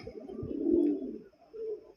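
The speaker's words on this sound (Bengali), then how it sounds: "মিলি কালার এক জোড়া অসাধারণ টপ কালার কব কবুতর নটটা কিভাবে ডাকতেছে" A pair of big Mili-colour pigeons coo close by, one long throaty rolling call followed by a shorter softer coo, with no voices.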